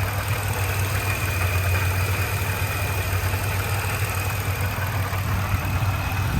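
Steady, smooth idle from a 2003 Chevrolet Monte Carlo SS with a supercharged 3800 V6, a close, even engine hum with no revving throughout.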